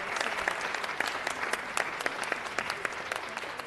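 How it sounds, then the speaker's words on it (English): Audience applauds the good food champions from 15 city council districts at a Food Day LA council meeting, a steady wash of many hands clapping at moderate distance, with scattered sharper claps standing out throughout. "Let's give them a round of applause."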